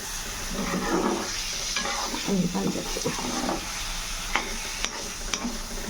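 Ongoing sizzle of spice masala and paneer frying in a pan while a spoon stirs and scrapes repeatedly, with a few clinks toward the end.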